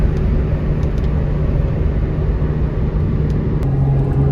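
A Ferrari Testarossa engine runs while warming up, giving a loud, steady, deep rumble with a constant low hum and no voices.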